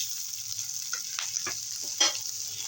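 Green chilies sizzle and crackle in hot oil after frying fish, a steady frying hiss with a few sharper spits and stirring scrapes, close up.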